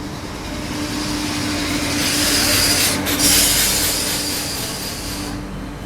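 A Sadbhawna Express train runs steadily, heard from inside a 3rd AC coach, with a continuous loud rumble, a sustained low hum, and a brief swell of wheel squeal midway.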